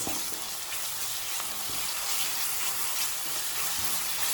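Ginger and green chili paste sizzles and fries steadily in a pan for coconut milk rice, a continuous bright crackle with no talking.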